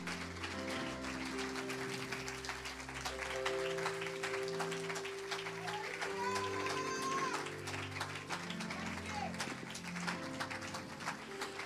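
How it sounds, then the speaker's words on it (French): A church congregation claps along with music during a worship service, steady rhythmic clapping blended with a beating bass line and sustained tones, moderately loud and continuous throughout. "If you want to clap,"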